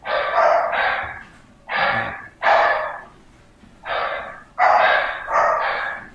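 Dogs indoors bark in a rapid series of about seven loud, close, gruff woofs, bunched in pairs with brief breathy pauses between.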